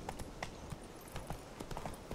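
Rapid horse hoof clops beat in an uneven galloping rhythm in The Witcher 3 video game, moderately loud over a steady background hiss.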